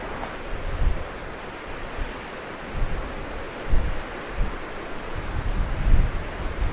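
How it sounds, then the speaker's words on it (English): Strong wind blows head-on over a lake in Nova Scotia during canoe travel, a loud, rough rush of gusts buffeting the microphone, with surges of water noise rising and falling throughout and no voices. "The wind is coming straight at me"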